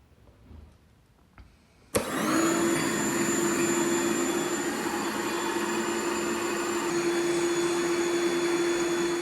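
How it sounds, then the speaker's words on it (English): Built-in electric pump on an Intex Ultra-Plush inflatable air mattress switching on abruptly with a click, then running as a loud, steady, close whining hum. "I will start the pump to inflate the bed"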